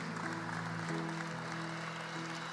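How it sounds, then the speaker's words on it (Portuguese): Church congregation applauding after prayer during an evening service, a steady, fairly faint wash of clapping with sustained low organ or keyboard tones underneath throughout. "Pode aplaudir Jesus mais uma vez."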